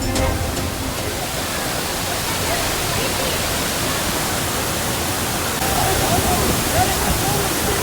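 Thirparappu waterfall in Kanyakumari, crowded with tourists: a loud, constant broadband roar of falling water filling the whole stretch, with voices mixed in.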